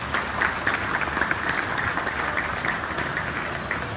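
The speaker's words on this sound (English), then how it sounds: "Let's give all of them also a big round of applause for being here." A large audience at a Kuala Lumpur festival opening ceremony applauds in a steady, dense round of clapping that holds at even loudness throughout, with no talking over it.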